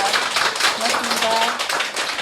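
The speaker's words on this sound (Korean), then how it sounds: "우리 작가님께 다정한 박수 한번 다시 한번 부탁드립니다" Audience clapping at a Korean spring audiobook reading event, a short dense burst of hand claps from a small crowd with faint voices and a brief tone underneath.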